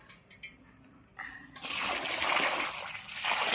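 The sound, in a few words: water poured onto banana plant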